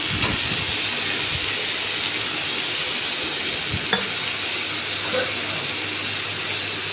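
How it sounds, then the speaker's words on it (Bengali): Bitter gourd frying in a pan, a dense, loud, continuous hiss of hot oil with a few soft scrapes and clicks, close and steady, with no talking. "তো এদিকে আমি উচ্ছে, করলা ভেজে নিচ্ছি।"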